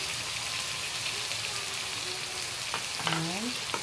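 Food seasoned with black pepper, salt and seasoning mix fries in a pan, a steady close sizzle with a few stirring scrapes toward the end, and a brief voice near the close.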